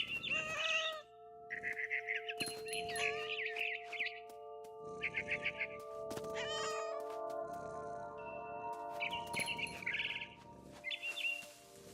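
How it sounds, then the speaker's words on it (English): A barn swallow chirps in What Remains of Edith Finch, its bright, repeated calls mixed with loud, drawn-out cat meows and caterwauls across a steady, close-up in-game scene. "Then I heard chirping outside my window. It was a barn swallow going back to her nest."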